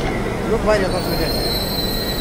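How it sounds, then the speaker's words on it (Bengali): A Dhaka metro rail train arrives and slows to a stop, its wheels squealing in high, thin tones over a low, rumbling roll, close and loud. "তো ট্রেনটি এসে থামলো"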